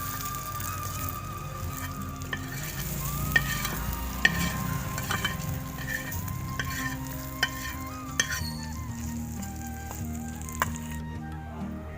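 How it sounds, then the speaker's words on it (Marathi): Green chili peppers frying in a pan with oil, crackling and sizzling steadily while being stirred, with sharp scraping clicks of the spoon against the pan at intervals, close and fairly loud throughout. "तर आता आपली मिरची चांगली तळलेली मस्तपैकी खरपूस आणि आता आपण ती काढून घेऊ"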